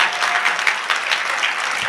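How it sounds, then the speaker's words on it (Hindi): Audience at a Hindi poetry gathering breaking into loud, dense applause, a brief burst of many hands clapping close by. "जोरदार तालियां।"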